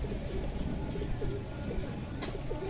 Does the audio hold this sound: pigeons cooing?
yes